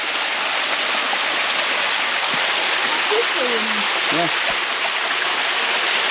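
A waterfall and stream rush in a hidden spot near Kuantan, Pahang, Malaysia, a loud, steady broadband roar filling the whole clip while people speak briefly over it.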